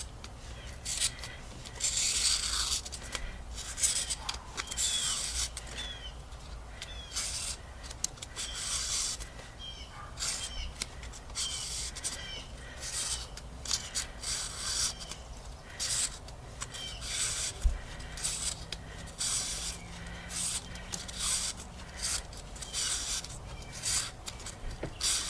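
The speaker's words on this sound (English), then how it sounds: "I like folding it over so it's double-sided and just moving it back and forth with tension" A folded, double-sided strip is rubbed back and forth with tension between the contacts of a high beam combination switch from an NA Miata, giving a steady scratchy rasping that continues throughout, close and unaccompanied by talk.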